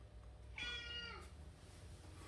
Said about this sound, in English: The cat is just all over the place. He won't stop.